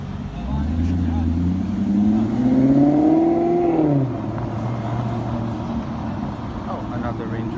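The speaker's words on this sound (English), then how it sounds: "I'm hoping it revs. Yes, it does." A Maserati engine revs nearby, a rising growl that climbs in pitch for about two seconds, then drops back to a steady rumble, with traffic noise around it.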